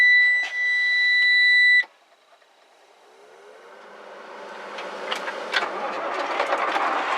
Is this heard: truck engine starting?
yes